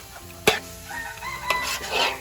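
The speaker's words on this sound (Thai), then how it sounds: "เสียงไก่แบบมันดังดังเยอะมากนะครับ" A rooster crows nearby, rising and drawn out, with a sharp clatter just before and faint kitchen sounds around it.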